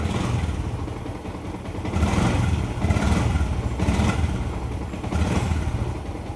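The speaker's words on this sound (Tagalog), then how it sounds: "Tsaka parang palyado yung kanyang motor." Yamaha Sniper motorcycle engine running unevenly with a misfire, its loud close chug swelling and dipping in irregular surges over a steady low clatter, with no voices.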